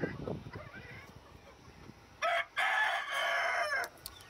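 At a home with pet birds, chickens give a few soft clucks, and after a near-silent stretch a rooster crows loudly and close, a long, broken call of several segments that ends with a couple of short bursts.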